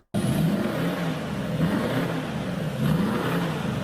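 A diesel car engine revs steadily and loudly, its pitch rising and falling in smooth surges, with no voices present.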